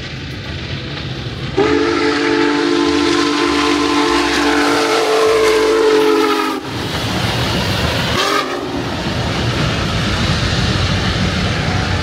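Union Pacific 4014, the railroad's largest steam locomotive, rolls past with a long, loud whistle blast, then a second shorter blast, over the steady roar and clatter of the moving train.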